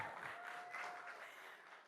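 Audience applause at a Republic Kannada Sangama 2025 event welcoming actor Kiccha Sudeep, a sustained wash of clapping from a large crowd, moderately distant and even throughout.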